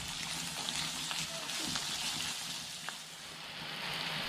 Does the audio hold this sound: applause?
no